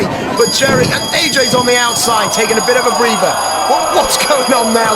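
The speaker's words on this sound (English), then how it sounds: "That is a fire alarm." A fire alarm rings continuously at a wrestling event, its steady high-pitched tones running under excited commentary throughout.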